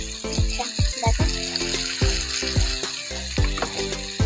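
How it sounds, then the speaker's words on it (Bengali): Crushed ginger and garlic fry in a pan for a chana dal and egg dish, giving a steady close sizzle broken by repeated metallic clinks and scrapes of a stirring utensil. "আদা আর রসুন থেতোটা দিয়ে দিলাম, ভালো করে কষিয়ে নেব।"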